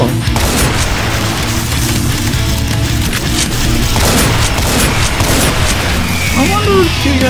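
Heavy booming blasts and dense battle noise from the Doom mod Project Brutality, loud and continuous, with a shotgun among the weapons firing and occasional impacts layered on top.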